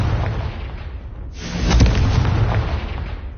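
A Confringo blasting spell goes off in the Hogwarts Legacy video game, a loud booming explosion that swells after a rumbling buildup and sustains with crackling debris for a couple of seconds.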